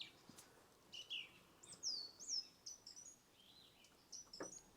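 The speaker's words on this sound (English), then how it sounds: "can you hear the birds singing?" Several birds sing and chirp on a warm evening outdoors, with short, bright, scattered calls over a quiet, faintly hissing background.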